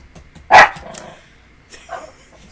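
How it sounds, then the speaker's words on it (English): A dog barks once, loud and close, in a short sharp burst, then gives a fainter yip about a second later over a quiet room. "do not bark at me, Cody"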